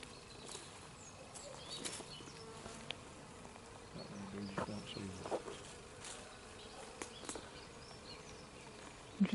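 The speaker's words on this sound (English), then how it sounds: "We're looking at the pussy willow that's had loads of bees on." Honey bees buzz around a flowering pussy willow outdoors, a faint, steady hum of many insects with individual bees zipping closer now and then, plus a few soft background noises.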